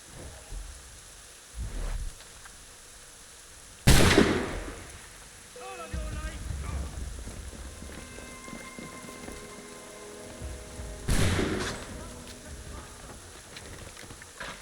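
Musket shots in the game Assassin's Creed III Remastered, in an outdoor battle scene: a few loud, sharp cracks spaced seconds apart, each with a booming tail, over rumbling ambience and faint game sounds.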